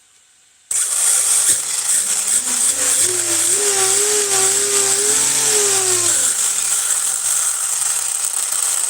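A 1/7 scale Extreme VTE2 on-road electric RC car motor runs up on a stand with a loud, steady high whine, while a lower tone rises and wavers through the middle before settling.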